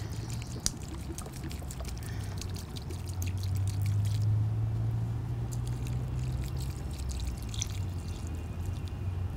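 Liquid steadily poured onto soil outdoors while collecting earthworms, a continuous close splashing trickle lasting several seconds, with a few small clicks and no talk.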